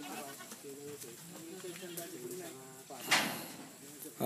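Several goats on a small farm bleat in short repeated calls, fairly close, with a louder cry near the end and a knock or door sound partway through; people talk quietly in the background.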